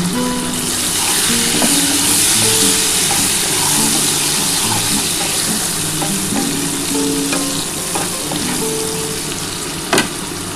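Small tomatoes tipped onto lightly fried onions for an egg and capsicum curry, a strong continuous sizzle with scraping stirring strokes and occasional utensil clicks, close and loud.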